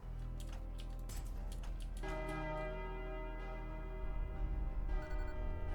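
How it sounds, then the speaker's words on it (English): A bell rung in the video game Ultrakill, with sustained tonal ringing layered over a steady game soundtrack; a strong new strike near the two-second mark leaves long, even harmonics that hang and slowly fade. "Okay, so it says to ring this bell."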